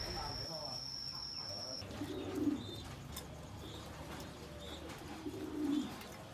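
Low coos from giant American King pigeons come twice at a moderate distance over a steady outdoor background, with faint chirps higher up.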